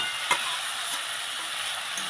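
Cabbage and fried potatoes stir-fry with spices in a pan, giving a steady close sizzle broken by a scrape or two of stirring.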